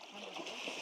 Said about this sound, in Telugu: శివ వాళ్ళు రోడ్డు మీద నుంచే దూకేస్తున్నారు